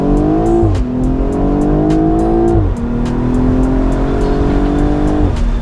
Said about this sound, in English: when it changes gears, the exhaust lets out a little fart